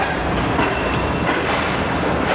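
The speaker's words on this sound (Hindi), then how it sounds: "रहीम यार खान रेलवे स्टेशन पर छोटा सा स्टॉप करने के बाद अब ट्रेन रवाना हुई है" The Pak Business Express passenger train pulls out of Rahim Yar Khan station, with a loud, steady rumble of rolling carriages and clattering wheels on track, close and continuous.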